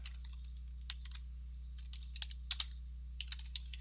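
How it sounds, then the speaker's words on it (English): Quiet, irregular clicking of keys being typed on a computer keyboard over a low steady hum, with short bursts and pauses. "go ahead and type your first name"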